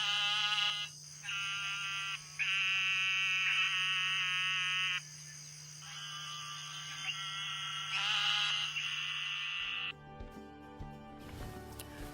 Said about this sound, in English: the Eastern narrowmouth toad has a really loud call.